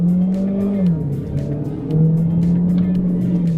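A BAIC X55 II SUV kicks down in sport mode, its engine note holding steady, dipping briefly, then climbing again in a loud, continuous drone close by.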